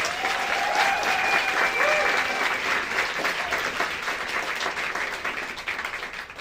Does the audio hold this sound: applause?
yes